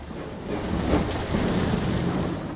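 Steady heavy rain with rolling thunder in the Ship Simulator video game, a dense, close roar of downpour that swells slightly and holds throughout, with no voices.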